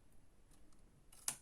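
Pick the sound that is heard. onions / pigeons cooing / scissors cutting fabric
scissors cutting fabric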